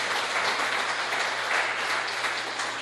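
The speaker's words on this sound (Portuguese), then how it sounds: "Pode aplaudir o Senhor Jesus." A church congregation applauds together, a dense, steady wash of clapping that holds evenly for a few seconds with no breaks and no voices over it.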